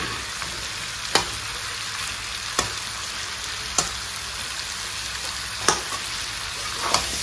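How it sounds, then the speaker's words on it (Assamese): Steady, close sizzling of potatoes frying in a pan, punctuated by sharp spatula scrapes roughly every second or so. "ইয়াত আলুখিনি দি ভাজি লৈছোঁ"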